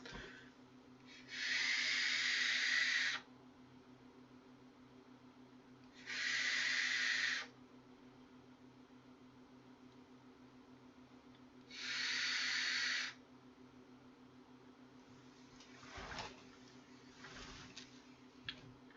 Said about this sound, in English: Now I've got the airflow fully open this, so this is basically going to be a lung inhale.